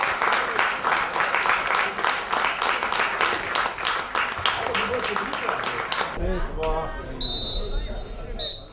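Spectators applaud at the last home game of the 2016/17 season of an amateur football club against champions TuS Holzkirchen as a retiring player, Tim Bauernschuster, is bid farewell. Sustained dense clapping from a crowd fills most of the clip before giving way to other sounds.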